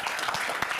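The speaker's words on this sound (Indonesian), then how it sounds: "Satu tepukan kepada Pak." Applause from a seated audience welcoming the Consul General at an official reception in his residence, a short burst of dense, steady clapping heard alone.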